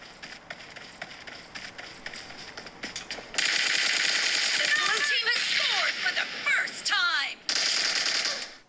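Rapid bursts of PUBG gunfire crackle through an iPhone 11 speaker, sharp repeated shots in quick clusters over a dense, steady background hiss.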